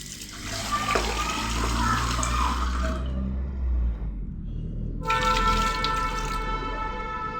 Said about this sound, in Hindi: अब हम इसमें थोड़ा सा कर देंगे पानी ऐड।